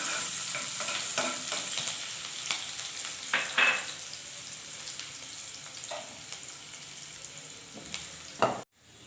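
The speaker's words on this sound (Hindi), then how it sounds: "अभी मैं इसमें कुटा हुआ लहसुन और कुटी हुई हरी मिर्च डाल रही हूँ।" Crushed garlic and green chili fry in hot oil, a close crackling sizzle with occasional stirring scrapes, ending abruptly.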